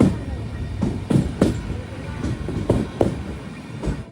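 The Poorna Express pulls into Gokarna Road station with rhythmic clattering wheel thumps over rail joints, close and steady, while faint voices carry on underneath.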